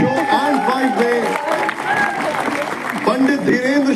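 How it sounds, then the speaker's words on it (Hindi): A studio audience claps and cheers to welcome Pandit Dhirendra Shastri onto an interview show, loud, crowded applause with voices calling out over it. "पंडित धीरेन्द्र शास्त्री जी का जोरदार तालियों से स्वागत।"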